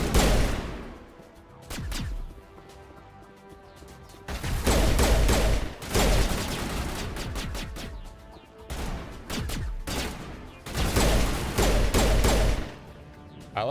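Video game gunfire, with clustered volleys of shots and bangs coming in repeated bursts a couple of seconds apart, loud and close.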